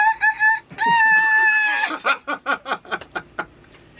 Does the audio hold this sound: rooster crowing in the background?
yes